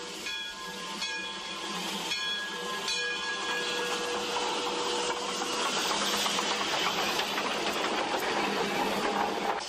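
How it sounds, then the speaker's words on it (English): An old steam locomotive backs up to couple onto railroad cars, with hissing steam, clanking and a steady mechanical chug that builds into a loud continuous rush, with no talk. "The steam locomotive is backing up so it can connect up with the other railroad cars"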